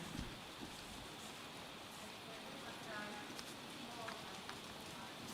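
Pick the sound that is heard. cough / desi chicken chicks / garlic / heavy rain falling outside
heavy rain falling outside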